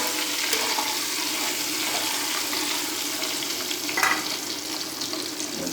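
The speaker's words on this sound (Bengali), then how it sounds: "ডিমটা এবার ভেজে নেব।" An egg fries in hot oil in a pan, a continuous bright crackling sizzle at steady volume with a few louder pops, close by and without any talk.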